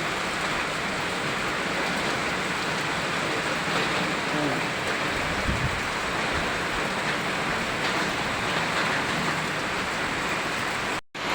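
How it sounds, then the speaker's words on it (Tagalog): Heavy, unbroken rain pours down in Cavite during a storm, a dense steady hiss filling the whole clip at close range with no pauses, cutting off abruptly at the very end. "walang tigil na ulan dito sa Cavite"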